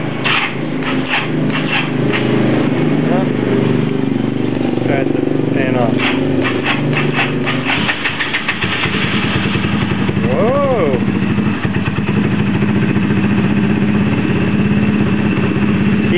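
A dirt bike engine, newly rebuilt and still breaking in, is cranked over and fires, then runs at a steady loud idle that continues without a break. Voices talk over the engine at times.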